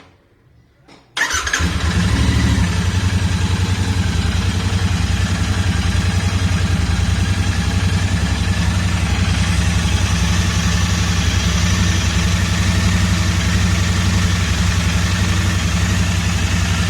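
A Royal Enfield Interceptor 650 BS6 motorcycle, already warmed up, fires after a short quiet moment and then settles into a loud, steady, throbbing idle that runs on evenly and close by, with no voices.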